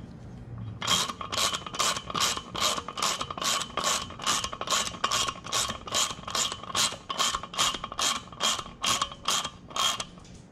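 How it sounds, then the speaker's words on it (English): Valve spring compressor squeezing a valve spring onto its retainer, giving a steady run of about twenty evenly spaced ratcheting creaks, loud and close, with no talking. "Now we need to compress our spring so we can put our keepers in."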